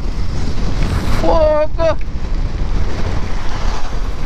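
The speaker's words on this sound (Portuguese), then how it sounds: "Eu estou no meio de um furacão." Hurricane-force wind from Storm Emma buffets a microphone in a constant heavy roar, with rain blowing against it; a voice briefly cuts through near the middle.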